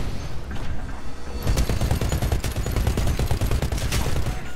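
Chain gun blazing in the shooter game Titanfall, a loud rapid burst of heavy automatic fire that kicks in after a quieter start and hammers on continuously with booming impacts.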